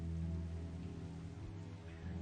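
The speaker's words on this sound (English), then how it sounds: "Oh, it's raining." Steady rainfall in the survival video game Project Zomboid, a continuous dense hiss of falling rain with a low rumbling bed and no speech.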